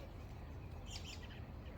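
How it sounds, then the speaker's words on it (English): Birds chirp faintly outdoors, a few brief high tweets around the middle of the clip over a steady low background rumble. "I don't know if y'all can really hear the birds there."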